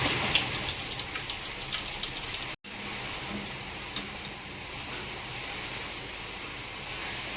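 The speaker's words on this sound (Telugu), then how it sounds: "కరేపాకు కూడా బాగా వేయించుకొని వేసుకోవాలి" Curry leaves fry in hot oil, giving a steady, fairly quiet crackling sizzle with a faint watery hiss that drops out briefly partway through and then carries on evenly.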